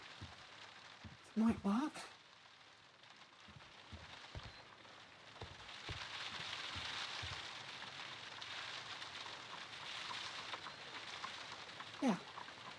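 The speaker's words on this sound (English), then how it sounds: "Rain on window." Steady soft rain patters against a window in Sherlock Holmes: Crimes & Punishments, a faint continuous hiss with occasional drops, while a voice speaks briefly near the start and again near the end.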